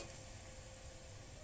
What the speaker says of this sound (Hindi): देखो एथर मोर पियाज टी ब्राउन कलर हो